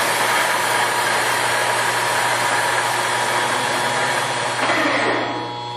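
A Mori Seiki machine spindle runs at its top speed of 1800 RPM, a steady, loud mechanical hum with a constant low drone and broad whine that holds evenly before easing down slightly at the very end.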